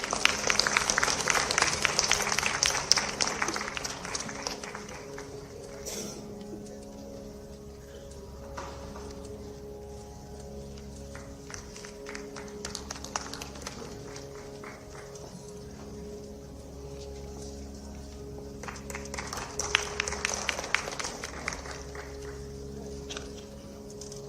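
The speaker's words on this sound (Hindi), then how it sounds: "आपकी तालियां निरंतर बजती रहें।" An audience at a university cultural festival claps, with a dense burst of applause at the start, thinning to scattered claps and murmur before another rise near the end, the hall sounding roomy with crowd noise.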